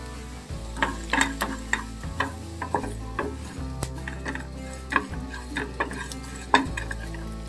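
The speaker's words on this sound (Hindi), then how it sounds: "मसाले को हम अच्छी तरीके से फ्राई कर लेते हैं" Masala for baingan bharta frying in a pan while a spatula stirs it, giving a rhythmic series of scraping, clattering strokes over a soft sizzle, fairly close and quiet, with no one talking.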